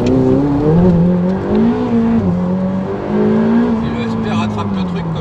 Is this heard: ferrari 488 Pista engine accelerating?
yes